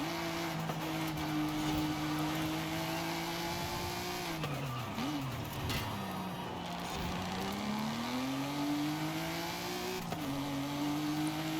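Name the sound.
car engine accelerating in video game Forza Horizon 5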